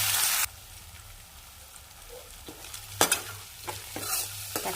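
Chopped tomato for idli upma sautés in a pan; a brief loud sizzle opens, then a quiet simmer broken by several sharp spoon scrapes and stirs toward the end.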